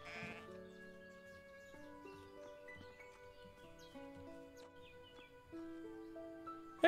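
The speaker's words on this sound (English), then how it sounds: "Oh, a sheep right here." A sheep bleats briefly at the start in the farming video game Everdream Valley, over soft in-game music with sustained melodic notes, ending with a short louder sound.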